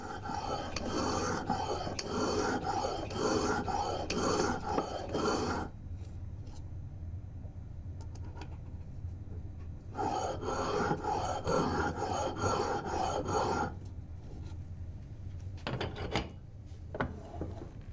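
Rhythmic back-and-forth rasping of a metal type bar on a sharpening stone, two bursts of several seconds each with quieter scraping and a few clicks between.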